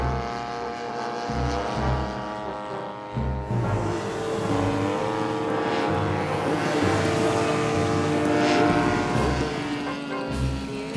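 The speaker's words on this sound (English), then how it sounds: "ready to control this miniature flying machine" A radio-controlled model airplane flies at an RC aircraft event, its small engine giving a continuous buzzing whine that rises and falls in pitch as it maneuvers, heard steadily throughout against outdoor background noise.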